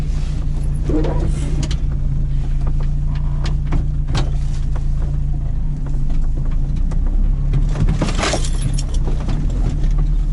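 A UAZ off-road vehicle drives at night through the taiga, its engine a steady loud low drone with rattling and knocks from the body over rough ground, continuous throughout.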